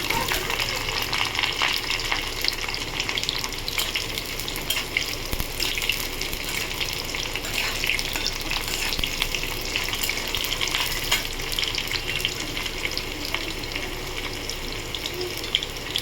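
Slit green chillies frying in oil for a kochur loti and prawn dish, a dense, even sizzle and crackle that holds steady throughout at close range, with no talking.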